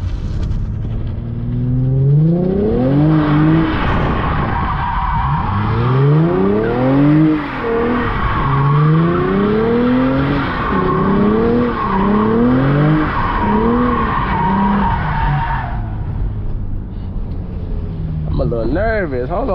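A Lexus RC 350 drifting on a rain-soaked road, its engine note repeatedly rising and falling in long revving sweeps while tires skid and squeal, loud and close for nearly twenty seconds.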